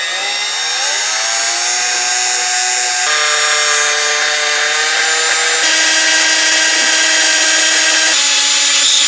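A power drill bores a pin hole for a billet crank pulley on a 700hp Whipple-supercharged AMG engine, a loud steady motor whine that shifts pitch in distinct steps as the load changes, with no talking.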